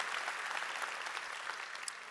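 A church congregation applauds to welcome a new campus, steady dense clapping filling the room at moderate distance, with no speech over it.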